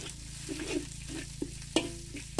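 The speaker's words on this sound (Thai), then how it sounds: "น้ำมันเดือดแล้วเขาก็ใส่พริกนะฮะที่เราตัก ใส่เป็นพริกแห้งครับ" Dried chilies frying in boiling oil for a spicy Thai stir-fried chicken with winged beans, a close, steady sizzle broken by stirring scrapes and clacks of a utensil against the pan.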